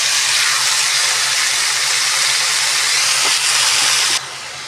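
Chopped potatoes and kundru (ivy gourd) hit hot oil with a loud, continuous hiss that stays strong for about four seconds, then drops off sharply.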